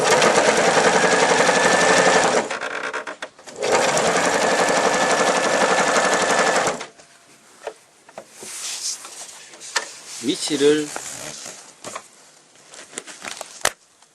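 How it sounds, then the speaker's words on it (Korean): An Elna 2600/2800 sewing machine stitching fabric, two loud sustained whirring runs of fast needle action close up, then quieter handling rustles and clicks as the fabric is moved. "원단을 노루발 밑에 넣으신 다음 노루발을 내리세요. 그리고 발판을 밟으시면"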